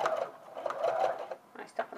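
A domestic sewing machine runs a short back stitch on a vent, its motor whirring and stitching in brief bursts with a pause, heard up close.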